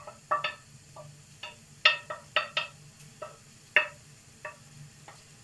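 Onion and pepper fry in a pan with meat, heard as a quiet, steady sizzle under a series of sharp, close clinks and scrapes from stirring, irregularly spaced.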